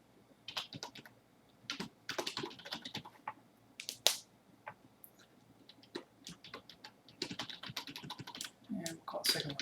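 Rapid computer keyboard typing in irregular bursts of crisp keystrokes while setting up OpenCV in MS Visual C++ 2010, fairly close and clear, with a few quiet pauses between runs of keys.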